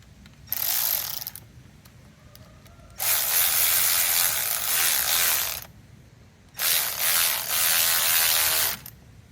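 Ratchet tightening an air injection tube fitting on an Oldsmobile Cutlass engine: three bursts of rapid, buzzing ratchet clicks, close and loud, with short quiet pauses between them.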